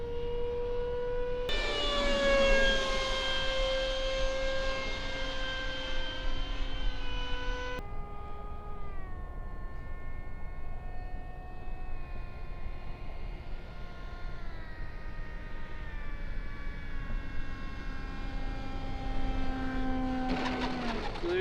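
A Starmax EPO foam F-16 RC jet with a 90mm electric ducted fan, powered by a 6-cell 5000 battery, flies overhead. Its steady high whine rises and falls in pitch as it passes, continuous and moderately distant.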